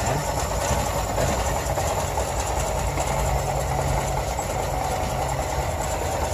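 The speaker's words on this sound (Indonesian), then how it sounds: "Ini mesinnya belum dipanasin ya, langsamnya masih rendah banget ya." A Daihatsu Ceria engine idling cold at low RPM below 1000, not yet warmed up, giving a steady, loud, rough drone with a dense low rumble and vibration throughout, no voices.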